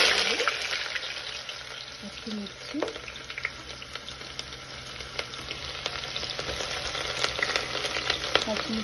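Green chillies frying in oil in a kadai: a bright, crackling sizzle with scattered popping spits, fairly quiet overall and heard alone without talk.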